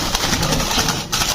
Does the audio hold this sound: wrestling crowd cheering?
no